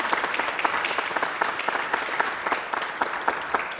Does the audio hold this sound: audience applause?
yes